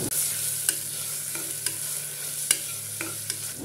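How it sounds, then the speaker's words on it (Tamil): Onion, ginger-garlic paste and chopped tomato stirred in a pan for a crane curry, a steady low frying hiss broken by a handful of sharp scraping clicks of the spoon against the pan, close and alone. "சேர்த்துட்டு லைட்டாக ஒரு வாட்டி மிக்ஸ் பண்ணிக்கோங்க."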